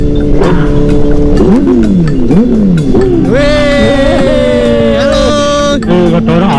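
Kawasaki Ninja H2 sport motorcycle engine revving loudly and repeatedly with rising and falling pitch sweeps, then a sustained high whine as it accelerates, close and continuous.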